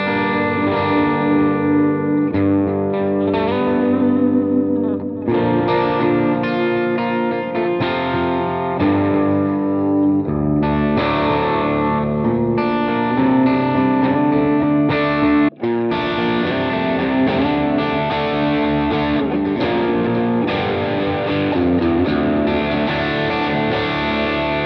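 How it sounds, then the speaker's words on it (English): Electric guitar played through the BIAS FX 2 LE amp plugin by Positive Grid, with distorted, chorused tones that ring out as sustained chords and melodic lines, loud and clear with no talking. "you have some guitar tones available by this guitar player"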